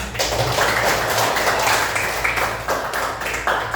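A class of students applauds after a lesson on dribbling and sprinting, a loud, dense burst of clapping that carries on steadily for a few seconds with no talk over it.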